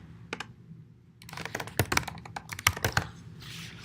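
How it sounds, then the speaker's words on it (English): Typing a command on a computer keyboard: a few isolated key clicks, then a quick, irregular burst of close, crisp keystrokes with a couple of louder thunks, likely the space or enter key. "So I type mutate large small.swift"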